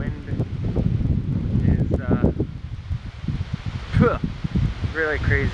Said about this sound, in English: Really windy and annoying.